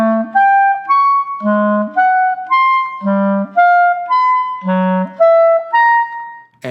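A horn plays a chromatically descending guide-tone line of root, flat seven and third, in clear sustained notes grouped in threes, each group a half step lower, played alone and close.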